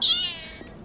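Pet cat gives a single clear, drawn-out meow, close and fairly loud, trailing off within a second with no talk over it.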